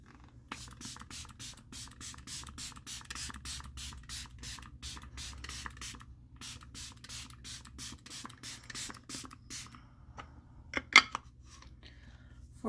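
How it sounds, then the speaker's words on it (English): A makeup setting spray is pumped onto a face in a long run of short, close hissing spritzes in quick succession, then pauses before a few more bursts near the end. "Okay, let's spray the face."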